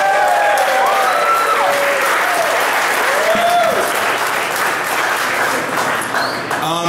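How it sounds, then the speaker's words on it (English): Sustained, loud audience applause at a startup pitch competition's judges' reveal fills the whole stretch, a dense wash of clapping with a few voices and whistles rising above it. "let's have a round of applause for Zach and his wonderful idea."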